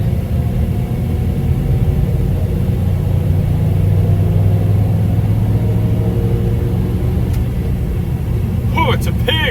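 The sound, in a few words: 1994 Dodge dually truck driving on open road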